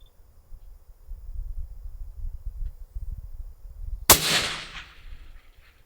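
A single sharp rifle shot cracks out at a long-range steel target, loud and sudden against a quiet, wind-rumbled field, followed by a brief decaying echo.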